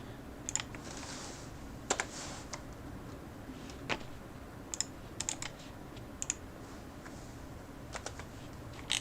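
Typing on a computer keyboard: a steady stream of light, irregular key clicks with sharper, louder taps scattered through, close and clear over a faint background hiss, with no talking.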